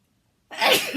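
A single loud, close sneeze bursts out suddenly after a moment of silence, breathy and explosive, then fades quickly.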